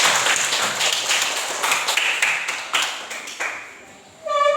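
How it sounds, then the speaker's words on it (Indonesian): Primary-school students in a Year 4 classroom clap for a classmate, a busy patter of small hands lasting about four seconds before it stops and a short bell-like tone sounds. "Ayo berikan tepuk tangan untuk Iska."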